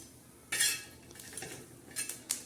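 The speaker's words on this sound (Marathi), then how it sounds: "आता आपण या तव्यावर अशा मस्त हिरव्या मिरच्या टाकणार आहोत भाजायला" Green chillies dropped onto a hot griddle to roast, heard as a few sharp clattering clinks and scrapes of a utensil on the metal with a soft sizzle in between, close and brief.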